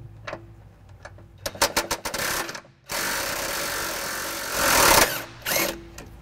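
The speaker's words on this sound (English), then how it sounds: "I'll be using an impact and an 18mm socket." Impact wrench with an 18mm socket removing a frame bolt on a 2010 Jeep Liberty, a few quick clicks followed by two loud buzzing bursts of hammering rattle, close up, ending in a short extra burst.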